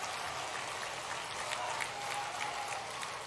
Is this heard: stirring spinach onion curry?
no